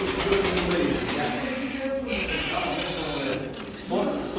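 Pigeons coo softly in a young birds' coop among fancy Ala and costume breeds, a steady low murmur under someone talking nearby.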